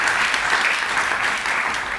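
Audience at a sustainability conference applauds as a speaker is welcomed on stage, a full, steady burst of clapping from many hands throughout.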